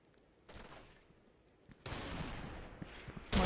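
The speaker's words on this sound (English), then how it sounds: "Hear the fire coming across." Gunfire from a Special Force 2 tactical shooter match rings out in a few bursts: a short volley, a pause, then a sustained loud rattle ending in a sharp close burst.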